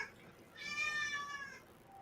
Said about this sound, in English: Oh, someone's cat's crying.